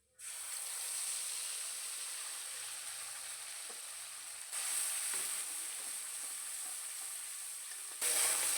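Spice paste sizzling and frying steadily in hot oil with black cumin, a continuous close bright hiss with small spikes where the paste is stirred.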